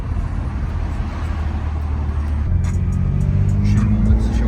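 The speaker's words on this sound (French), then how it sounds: "On va accélérer. J'ai dérapé des roues." A BMW M2 accelerates hard, its engine rising from a steady rumble into a louder, climbing roar with faint tire chirps as the wheels slip, while people talk inside the car.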